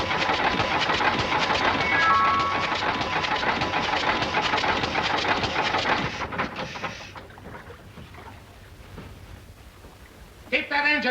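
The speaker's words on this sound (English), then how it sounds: "Keep that engine running." A boat engine runs steadily and loudly for about six seconds, then cuts out abruptly, leaving quieter background noise and a brief burst near the end.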